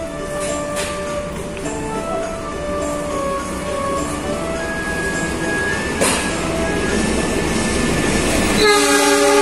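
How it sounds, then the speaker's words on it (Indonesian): Tegal Express passenger train hauled by a CC201 locomotive pulls into track 2 at a station, rumbling close and steady with tonal hums and squeals, a sharp clunk midway and a horn-like blast near the end. "sebentar lagi kereta api Tegal Express akan segera masuk di jalur 2"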